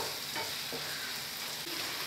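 Tomatoes and garam masala are stirred inside an electric rice cooker while chicken biryani is being made. Faint, soft stirring scrapes sit over a constant bright hiss of cooking.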